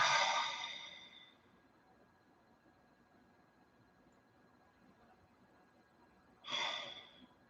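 Two slow, deep breaths during a guided meditation, a long airy exhale at the start and another intake near the end, separated by several seconds of near silence.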